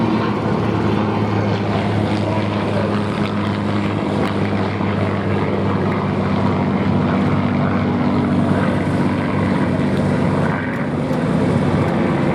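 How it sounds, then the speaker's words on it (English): A propeller-driven aircraft climbs at an air show, its big front-mounted engine and propeller giving a continuous, loud droning roar with a steady low hum that holds throughout, slightly shifting near the end. "Thanks to this big engine and big propeller up front."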